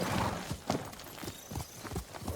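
Horse hooves clip-clop at a steady walking pace in Ghost of Tsushima, a close, even run of soft thuds over quiet game ambience.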